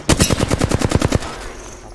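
Automatic gunfire in the video game Apex Legends rattles in a rapid, loud burst of about a dozen shots, then trails off into a fading echo.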